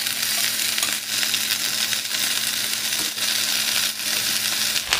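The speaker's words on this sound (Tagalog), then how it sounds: "I-brown lang rin natin ang kabilang side." Chicken pieces frying in a pan while the other side browns, giving a loud, steady sizzle and crackle with bursts of spitting oil, close and continuous with no talking.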